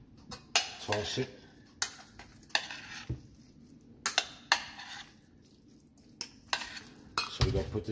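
Crab salad being tossed with lemon vinaigrette in a bowl gives repeated close clinks and scrapes of utensils against the dish, an irregular busy rhythm with little talk.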